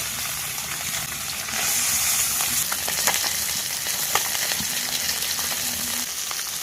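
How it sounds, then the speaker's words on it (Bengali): Fresh river parshe fish sizzle and crackle in hot oil, with a continuous, close frying hiss and occasional sharp pops and spatters. "তেল কিন্তু বন্ধুরা গরম হয়ে গেছে, পার্শে মাছগুলো ভেজে নেব।"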